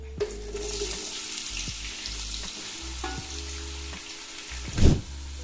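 Three thinly sliced big onions hit hot oil in a pot for Palakkad-style chicken biryani, giving a steady broad sizzle with occasional clinks and scrapes and a louder sputtering burst near the end; no talking.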